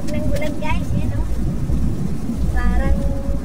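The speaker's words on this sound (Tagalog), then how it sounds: "Dinig nyo yung tunog ng ulan guys." Heavy rain drums steadily on a moving vehicle in traffic, a dense, constant rumble heard from inside the cabin, with voices talking over it.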